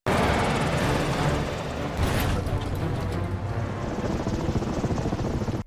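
A helicopter in an action movie chase scene roars loudly and continuously, its thudding rotor and engine filling the clip, with voices heard faintly beneath.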